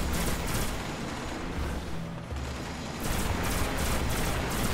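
Gunfire in the Destiny video game on a hard-mode mission on Mars, dense and continuous, with rapid overlapping shots forming a steady loud barrage that briefly dips midway before resuming.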